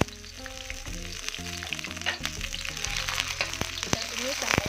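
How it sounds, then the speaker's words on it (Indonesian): Garlic and shallots fry in hot oil in a home kitchen wok, a steady crackling sizzle running throughout, with faint background music and clinking underneath. "Kita masukkan bawang putih dan juga bawang merah."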